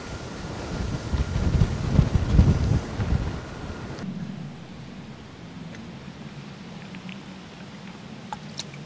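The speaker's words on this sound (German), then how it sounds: "Ziemlich viel Wind." Strong gusty wind buffets the microphone during a bike ride through wetlands, loud rumbling blasts for the first few seconds, then easing to a softer, steady windy hiss.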